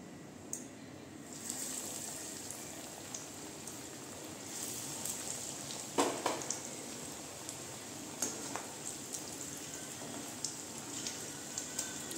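Chicken chops fry in hot white oil in a kadai, a steady close hiss and crackle like rain with scattered louder pops and spatters throughout.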